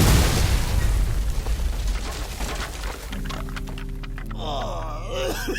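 Explosion sound effect from an anime-inspired audio drama: a loud booming blast with a rumbling low-end roar that decays into crackling debris and rising electronic tones, no speech.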